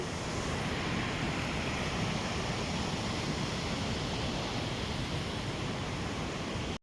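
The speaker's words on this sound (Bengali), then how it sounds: "তো জলের স্রোত তো দেখতেই শুনতেই পেলে" Rushing water current flowing near a bridge at Nimbon, a loud, steady broadband roar that stays constant throughout with no break and no voices.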